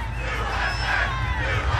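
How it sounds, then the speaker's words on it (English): A large rally crowd chants for former president Trump as he leaves the stage after a shooting, a dense, steady roar of many voices with no distinct speech above it. "The crowd starts to chant for the former president as he leaves the stage"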